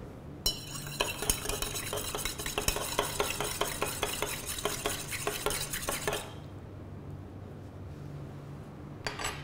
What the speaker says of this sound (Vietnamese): Khuấy đều.